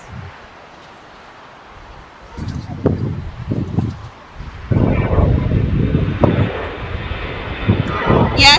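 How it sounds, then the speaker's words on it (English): A Southwest Airlines airliner arriving on the 24 runways at LAX, its engine roar building loud and broad under wind noise, with someone talking over it in bursts. "Just arriving on the 24s, we do have Southwest Airlines."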